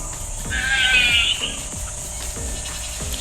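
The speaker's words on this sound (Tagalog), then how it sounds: "Ang ingay ng kambing" A goat bleats loudly nearby in one drawn-out, wavering cry, with a steady insect-like buzz running underneath.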